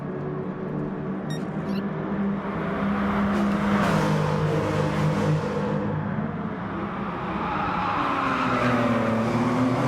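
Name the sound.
race cars racing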